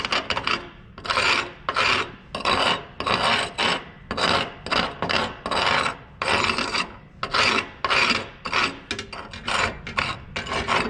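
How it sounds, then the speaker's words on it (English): Chipping hammer edge scraping slag from a stick-welded steel plate, rhythmic rasping strokes about twice per second, close and loud, with no talking. "just drag this chipping edge along the plate"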